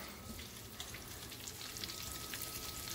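Stuffed potato balls (papas rellenas) bubble and sizzle steadily in hot oil, a close, continuous crackling fry with no voices.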